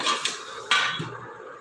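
Metal baking trays for pizza picked up and set down in a home kitchen, two sharp clanks with a ringing metallic tail, close and fairly loud, with no speech.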